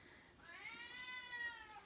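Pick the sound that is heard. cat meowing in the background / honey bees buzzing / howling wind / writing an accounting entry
cat meowing in the background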